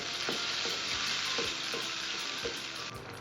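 Tomatoes with turmeric and salt sizzle steadily in a frying pan, with a spoon stirring them in soft, intermittent scrapes close by.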